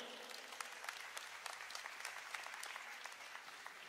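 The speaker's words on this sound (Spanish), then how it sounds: "Denle un aplauso al Señor" A church congregation applauds during a Spanish-language service, a continuous patter of many hands heard at a fairly low, distant level with no voices on top.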